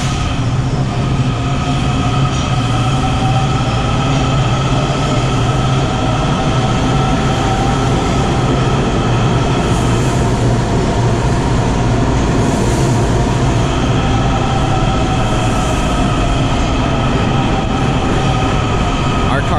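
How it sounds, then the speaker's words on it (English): A WMATA Kawasaki subway train pulls into Fort Totten station on the Yellow Line with a loud, continuous rumble, propulsion whine and wheel noise close by, filling the platform. "This is our train arriving at Fort Totten."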